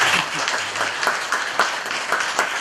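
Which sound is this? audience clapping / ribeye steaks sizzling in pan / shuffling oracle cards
audience clapping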